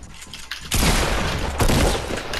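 Fortnite video game gunfire bursts out loud and dense, a rapid rattling volley starting under a second in and running continuously, swelling again near the end, with no talk over it.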